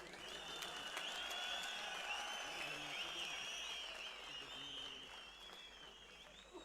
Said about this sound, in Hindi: तालियों सीटियों से इनका स्वागत करें